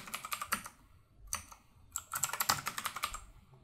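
Fingers type a password on a computer keyboard in quick bursts of crisp, close key clicks with short pauses between runs, fairly quiet and with no talking.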